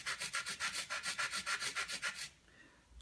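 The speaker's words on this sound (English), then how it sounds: "start sanding from over there" Hand sanding of wood by someone switching to work from the back side, heard as a fast, steady run of about fifteen rhythmic rasping strokes, loud and close, stopping abruptly before a quiet end.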